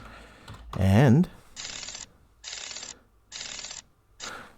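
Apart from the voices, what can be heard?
typing on a computer keyboard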